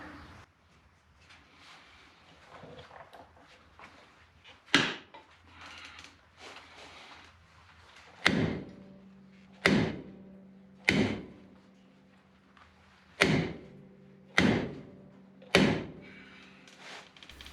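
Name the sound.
rock hammer pounding metal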